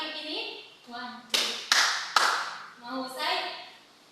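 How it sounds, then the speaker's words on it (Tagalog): Schoolchildren clap twice in unison in a classroom, two sharp crisp claps close together, set between a teacher's voice and the kids' replies. "Pumalakpak nga ng dalawa kung kayo nakikinig."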